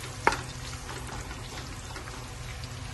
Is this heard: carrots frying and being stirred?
yes